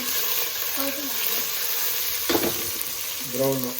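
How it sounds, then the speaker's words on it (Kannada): Onions fry in a pan for veg pulao with a steady, close sizzle that continues throughout, and a stirring scrape can be heard midway. A voice speaks faintly under the frying. "ಈರುಳ್ಳಿ ಹಾಕ್ತಾಯಿದ್ದೀನಿ ನಾನು. ಈರುಳ್ಳಿ ಹಾಕ್ಬಿಟ್ಟು ಅದು ಬ್ರೌನ್ ಆಗೋವರೆಗೂ"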